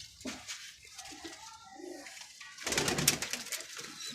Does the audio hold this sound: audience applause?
no